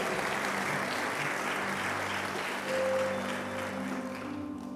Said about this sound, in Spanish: Le damos un aplauso porque ellos son parte nuestra